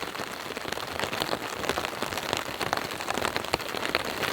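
Rain drumming steadily on a tarp during a violent Colorado storm at a solo campsite, a dense continuous patter of drops with scattered sharper taps, close and fairly loud throughout.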